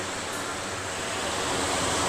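Sea waves wash steadily onto a shore, forming a loud, continuous broadband surf that swells slightly toward the end, with no voices.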